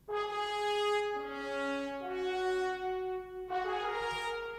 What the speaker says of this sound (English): The synchron horns alone would sound like this.